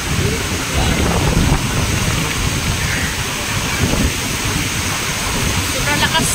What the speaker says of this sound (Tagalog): Sobrang lakas talaga ng bukso ng hangin.